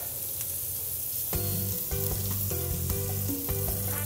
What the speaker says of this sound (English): So we're gonna caramelize the onion and the garlic for like not very long.